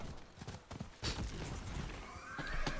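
A horse in Diablo 4 whinnies loudly as it dies, with clip-clop hooves and combat clatter around it, the neigh rising sharply near the end.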